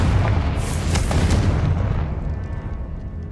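A Confringo blasting spell explodes in the video game Hogwarts Legacy: a deep booming blast with a crackling burst that rumbles and slowly fades away over a few seconds.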